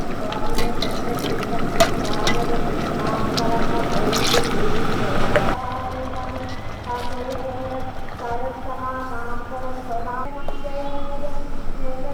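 Water is poured into a pot of green gram curry in a steady stream for several seconds, then cooking clatter and faint stirring sounds follow under quiet background noise.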